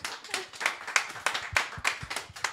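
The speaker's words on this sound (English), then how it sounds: "a round of applause, please" An audience at a sustainable-innovation conference panel claps, with distinct hand claps landing in a fairly regular rhythm rather than a dense roar.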